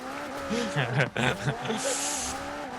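A McLaren in a racing video game revving and skidding as it smashes through Lego pieces, engine tones rising and falling with tire squeal and crunching impacts, under excited talk.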